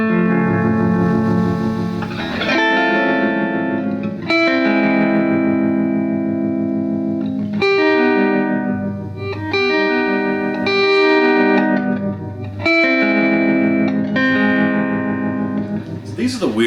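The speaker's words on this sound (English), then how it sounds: "So you play one note and it's going to play an entire chord." Digitech XP300 Space Station guitar effect set to fourths and fifths, each single note producing a full resonant chord; a series of sustained, shimmering chords ring and decay one after another, loud and upfront.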